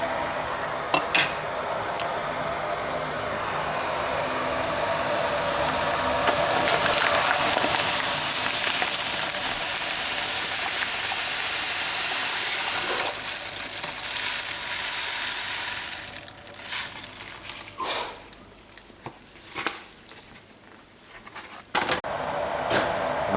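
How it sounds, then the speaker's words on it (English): Sugar water, two kilos of sugar in hot water, boils in a pot with a dense bubbling hiss that builds, holds and then drops away, with occasional knocks and clatter. "once the sugar water came to a boil"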